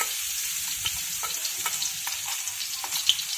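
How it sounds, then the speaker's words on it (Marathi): Cumin tempering in hot oil in a heated kadhai, a close continuous sizzle with scattered crackles and light stirring scrapes, fairly quiet and with no talking. "आता आपण फोडणी करून घेऊयात. कढई तापलेली आहे."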